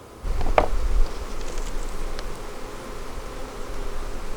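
Honeybees buzz steadily in a close, continuous drone as they are settled into a new hive in a bee yard, with a brief knock near the start.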